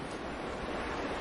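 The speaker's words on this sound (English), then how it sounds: "It is getting very windy outside." Strong hurricane wind roars outside in a constant broadband rush, loud and unbroken.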